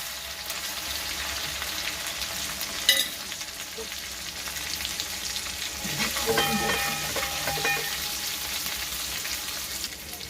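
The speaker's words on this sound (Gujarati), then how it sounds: "આ ઓઇલ ગરમ થઈ ગયું છે। આપણે એમાં નાખીશું આ મરચાની પેસ્ટ, સાથે ફોડી દઈશું રાઈ" Chili paste and mustard seeds fry in hot oil with a steady sizzle, a sharp crackle near the three-second mark and a brief louder burst of spattering pops around six to eight seconds.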